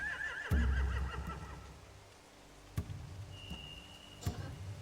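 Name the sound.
horses neighing in video game The Walking Dead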